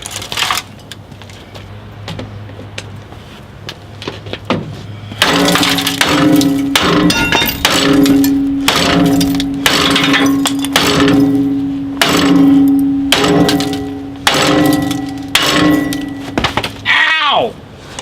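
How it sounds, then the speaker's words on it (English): Repeated sharp metallic strikes land in an uneven rhythm, close and loud, over a steady hum, ending with a squeal. "And this job really needs a hammer."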